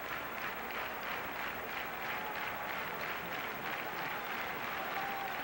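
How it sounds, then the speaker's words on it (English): A stadium crowd at a 1982 5000-meter track race applauds and murmurs faintly and steadily in the distance, a low continuous wash of clapping without speech. "You can hear the crowd in the background here"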